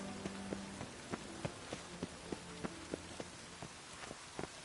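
Rain in The Witcher 3 video game pattering steadily with scattered louder drops tapping at an uneven rhythm, fairly quiet and close, with no voices.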